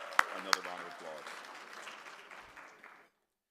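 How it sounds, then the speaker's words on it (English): A lunch audience at a conference plenary claps, opening with a couple of sharp, loud claps close by, then a broader round of applause mixed with talk that fades out after about three seconds. "So I want to pause here so we can give you another round of applause."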